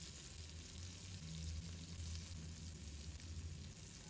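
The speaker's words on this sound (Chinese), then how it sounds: "利用虾油的味道去煎虾仁" Shelled shrimp fry in shrimp oil in a pan for a shrimp and glass noodle pot, giving a soft, even, continuous sizzle at low volume.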